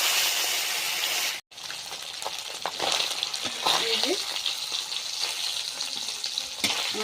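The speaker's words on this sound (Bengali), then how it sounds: "এবার মাছ ভেজে নেব।" Turmeric-coated rui fish fries in hot oil in a pan, giving a steady, close sizzle with scraping stir sounds and a short spoken phrase over it.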